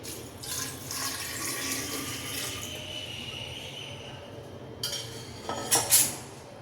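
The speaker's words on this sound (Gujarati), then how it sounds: "હવે આપણે આ પાણી એ જ બરણીમાં રેડી દઈશું" Water is poured into a glass jar holding amla for pickling, a quiet trickle that swells into a few louder splashing pours near the end, with no talking.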